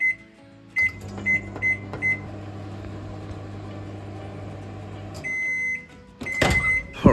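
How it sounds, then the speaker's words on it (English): A microwave oven hums steadily with pieces of bark inside to kill ants, set off by several short beeps at the start and a door clatter and more beeps near the end. "I will be putting them in the microwave to kill anything that is possibly in here."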